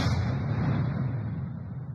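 A cannon fires in Minecraft on a working super tank, giving a dense, loud booming rumble that fills the whole moment and slowly decays, with no talk over it.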